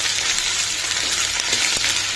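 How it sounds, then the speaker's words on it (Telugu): Cabbage fries with ginger garlic paste in a pan, giving a steady close hiss and sizzle with a few faint stirring scrapes. "దీన్ని కూడా మిక్స్ చేసేసి కంప్లీట్గా వేగిన తర్వాత అప్పుడు క్యాబేజీ యాడ్ చేసేసుకున్నాం."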